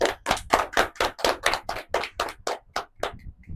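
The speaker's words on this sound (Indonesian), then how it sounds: "Tepuk tangan dulu." About a dozen slow, evenly spaced hand claps come from a small group, close and distinct, stopping after roughly three seconds.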